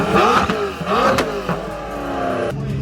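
A Lamborghini Murcielago revs hard up close in loud surging bursts, with sharp exhaust cracks and pops between the revs, then settles into a lower steady drone.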